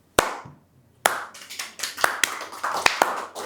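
Hand clapping during an Indonesian podcast recording, a few sharp loud claps at first, then a quick burst of dense overlapping applause from a small group, close and dry with no talking.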